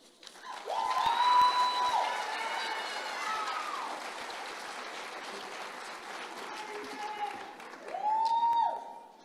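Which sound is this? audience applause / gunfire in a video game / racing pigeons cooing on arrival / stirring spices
audience applause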